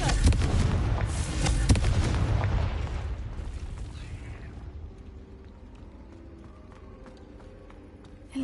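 A Confringo fire spell explodes in Hogwarts Legacy, a loud booming blast with crackling debris that rolls off into a long fading rumble, followed by faint scattered clicks and ticks.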